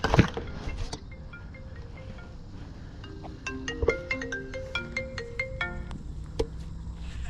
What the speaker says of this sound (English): my phone's ringing, so let's answer that